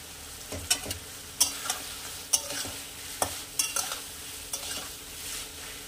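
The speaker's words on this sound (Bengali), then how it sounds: "দিয়ে আমি আরও কিছুটা ভাজবো, একটু লাইট ব্রাউন করে ভাজবো" Tomatoes and cashews fry in a pan for paneer butter masala, a low steady sizzle under a spatula's sharp scrapes and taps every second or so, close by with no talk.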